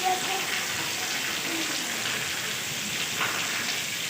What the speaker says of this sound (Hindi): तो आज आपको सारा बारिश का भी दिखाते हैं